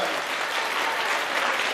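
Audience at a 2012 primary-school graduation of Gymnasium 1591 applauds the graduates, a dense, steady wash of clapping from a full crowd, loud and close, with no talk over it.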